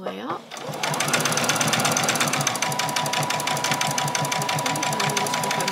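Sewing machine stitching a fabric bag, a steady rapid mechanical whir with dense needle clatter running continuously after a brief start, loud and close.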